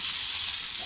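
Vegetables sauté with garlic in a hot pan, giving a steady, loud, bright sizzle with no pauses and no voices.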